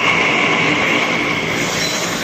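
Delhi metro train at Qutub Minar station, a loud, steady rumble and rail hiss of carriages running close by, continuous throughout with no talk.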